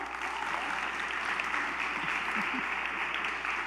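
Young people at a church youth session clap together, a dense, even wash of applause that holds steady throughout without a break and with no talking.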